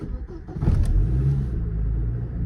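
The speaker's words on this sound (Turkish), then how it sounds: "Şimdi çok az gaz vererek çalıştıracağım." An Opel Vectra started cold with a little throttle: a short crank, then the engine catches and revs up briefly before settling into a steady, close rumbling idle.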